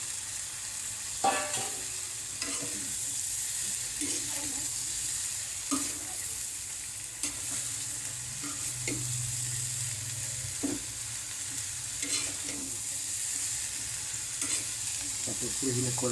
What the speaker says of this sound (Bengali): তারপর আলু এবং গাজর একসাথে দিয়ে দিব, দিয়ে নাড়াচাড়া করতে থাকবো।